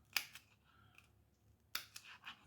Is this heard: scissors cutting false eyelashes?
yes